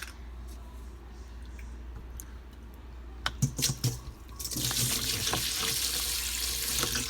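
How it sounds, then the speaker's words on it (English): A few clinks and splashes, then a steady rush of water pouring into a bowl of sea moss, continuing loudly to the end over a low hum. "I'm gonna pour my water in there."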